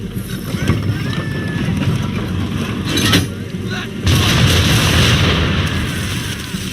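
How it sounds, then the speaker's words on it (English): Ship cannons firing broadside at an enemy vessel in the Assassin's Creed III naval combat, heavy booming blasts over roaring wind and sea, loud and continuous, with a second surge of rumbling fire partway through. "Now, aim all guns at her bow and do as much damage as possible."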